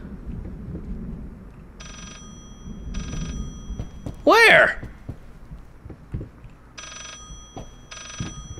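An old-fashioned telephone rings inside the horror game Layers of Fear, with short bursts of ringing at a regular interval over a low rumbling ambience, broken midway by a loud, sharp scream-like burst, while someone speaks briefly.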